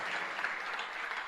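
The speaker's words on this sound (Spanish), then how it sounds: "Si va a aplaudir a Jesús, hágalo con fuerza" A church congregation applauds during a sermon, a brief, even burst of many hands clapping together at moderate loudness, with no voices over it.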